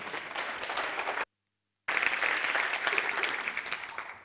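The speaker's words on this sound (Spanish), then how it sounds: "Un aplauso." Audience applause welcoming an architect to the stage at a housing conference, a steady crowd clapping that cuts out briefly to silence before resuming at the same even level.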